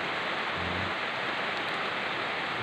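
Steady rain falls outside a house in a dense, even hiss, with a faint low rumble briefly underneath and no voices.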